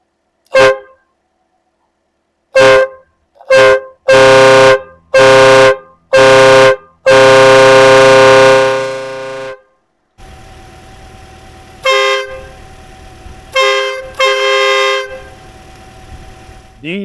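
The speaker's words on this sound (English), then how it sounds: "Today's air horns." A CARFKA 150 dB train-style air horn kit blasts in short toots, then a long sustained chord, followed by quieter intermittent horn notes over a low mechanical hum, loud and close.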